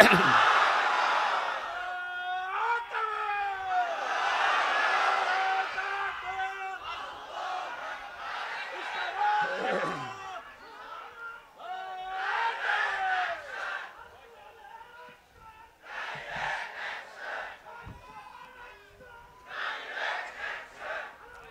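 A crowd at an outdoor Bangla religious sermon gathering roars takbir in answer to a preacher's call, with repeated loud swelling bursts of massed voices separated by brief lulls.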